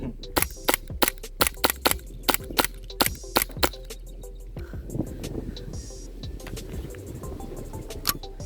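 A rapid string of sharp, snappy pops from a WE Hi-Capa Dragon 7.0 gas blowback airsoft pistol on green gas, roughly a dozen shots in a quick rhythm, then a brief clatter of a glass bottle breaking and scattered softer pops.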